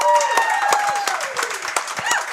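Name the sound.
crowd round of applause for head coach Todd Moebes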